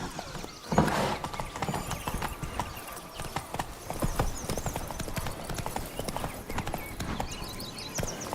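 Galloping hooves of Roach, the horse in The Witcher 3: Blood and Wine, a fast, steady clip-clop close by with a short whinny near the start, over constant game ambience.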